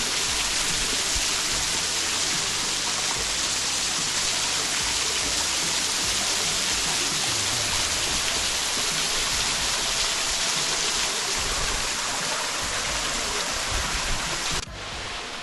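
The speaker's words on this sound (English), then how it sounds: "We're crawling up all the rocks to get as close to the waterfall as you can." Poondahra Falls on the Warrie Circuit roars close by, a dense, constant rushing wash of falling water that holds steady throughout, with no voices.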